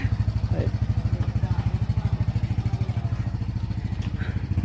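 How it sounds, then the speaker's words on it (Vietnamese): A motorbike rides straight into a house with a close, steady, rhythmic engine chug that holds at an even pace throughout, while faint voices are heard in the background. "Anh em mà đi xe máy à? Đi thẳng vào trong nhà."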